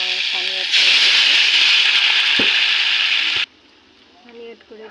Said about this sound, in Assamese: তাৰপিছতে মই পানী এড কৰি দিছোঁ